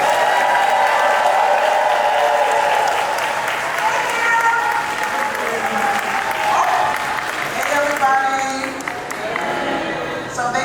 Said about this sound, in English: Please everyone give her a big round of applause.